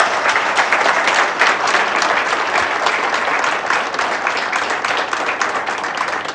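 A crowd of plant workers at a tempered glass factory for mobile phones applauds loudly and continuously, with dense, close clapping that holds steady throughout.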